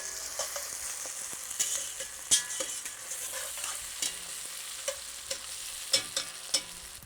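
Garlic fries in a pan for Guinness chicken, a bright, close sizzle with frequent pops and spatters and the scrape of stirring.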